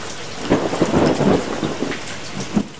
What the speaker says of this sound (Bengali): দুপুর থেকে মেঘলা করে 4টে নাগাদ তেড়ে বৃষ্টি নামলো